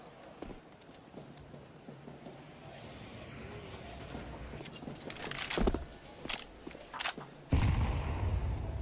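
Rifle shots ring out in a Counter-Strike match on the Train map during the FURIA vs MOUZ IEM Cologne 2025 quarterfinal. A few loud, sharp bangs cluster near the end over a quiet, low ambient bed.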